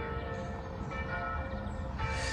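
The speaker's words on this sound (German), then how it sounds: "die Glocken läuten immer noch" Church bells ringing in Ribe, Denmark, heard from a distance as a steady, sustained peal of overlapping tones with street ambience beneath, no talking.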